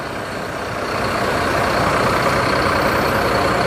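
An SHD Jetbus 5 coach's engine runs with a loud, steady broadband rumble close by, swelling slightly after a second and holding, with no talking.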